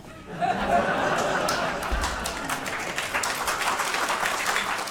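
An audience breaking into applause, a dense wash of clapping that swells quickly and carries on steadily at moderate distance, with scattered laughter and chatter mixed in.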